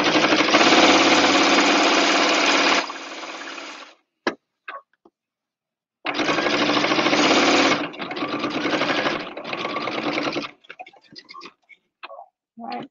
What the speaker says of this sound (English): Stitch a little bit and then lift up.